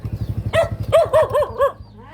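A dog barks in a quick series of four or five close, loud barks, following a steady rhythmic mechanical thumping, in a rural Thai village setting.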